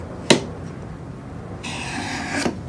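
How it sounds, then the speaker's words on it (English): A sharp chisel scrapes across walnut on a keepsake box, giving a short sharp scrape near the start and a longer rasping stroke later, close and clear against a quiet background. "Get in here with your nice chisel."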